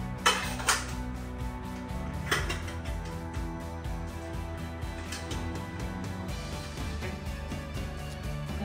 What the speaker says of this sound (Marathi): हा एक पॅन आहे आणि हा एक छोटा पातेला आहे.